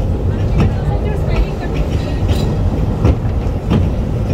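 A steam train rumbles steadily along the track in Wales, loud and close, with rhythmic wheel clacks recurring every second or so beneath the constant roar.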